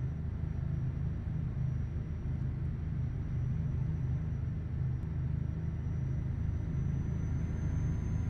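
Truck in Euro Truck Simulator 2 drives into Stuttgart, a steady low engine rumble with a constant faint high whine, unbroken and even throughout.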